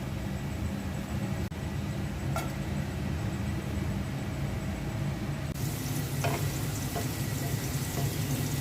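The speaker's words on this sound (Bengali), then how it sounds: "ফ্রাই প্যানে সয়াবিন তেল দিয়ে দিচ্ছি। ইলিশ মাছের ডিমটা ভাজবো।" Hilsa fish roe fries in soybean oil in a frying pan, a soft continuous sizzle that grows brighter and louder partway through, with a few faint clicks of a utensil and no talking.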